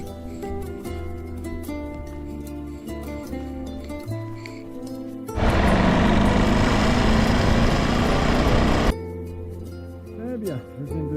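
Motorcycle engine running while riding a trail in the Pyrénées-Orientales mountains. A steady, fairly loud roar fills the middle of the clip, with quieter engine hum and light voice-like sounds before and after.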